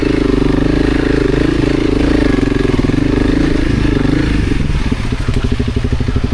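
Off-road motorcycle engine chugging steadily at low speed while a new rider climbs hilly technical terrain, a loud close rumble with clattering that turns choppier and more uneven near the end.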